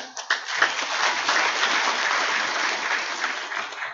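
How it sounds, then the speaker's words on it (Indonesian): Sustained audience applause fills a university graduation ceremony hall in Indonesia during a scholarly address, a dense, even roar of many hands clapping for about four seconds with no voices over it. "Kalau saudara tepuk tangan saya lupa."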